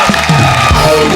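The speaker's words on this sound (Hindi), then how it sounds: "जोरदार तालियां।" The studio audience of a Hindi TV comedy show claps and cheers loudly, producing a short, dense burst of applause with whoops and shouts.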